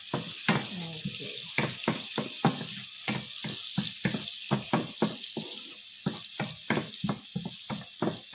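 Ginger fries in a pan for a stir-fried mushroom dish. A continuous bright sizzle runs throughout, broken by regular, rhythmic scraping strokes from stirring.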